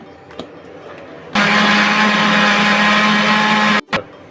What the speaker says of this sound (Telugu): ఇప్పుడు మిక్సీ చేద్దాం మెత్తగా.